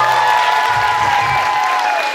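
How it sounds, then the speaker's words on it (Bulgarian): Audience clapping at a concert-style awards event in Lovech, a dense steady burst of applause from a crowd filling the whole short stretch, fairly loud and close with no voices on top. "тези аплодисменти не са за мен, а за вас"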